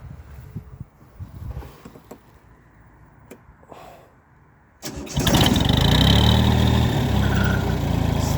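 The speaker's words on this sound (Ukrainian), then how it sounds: "Зараз ми спробуємо його завести, покажемо, як він працює." An Iseki TU220 Japanese compact tractor is cranked after a few quiet clicks and knocks, then its engine catches abruptly and settles into a loud, steady, even idle nearby.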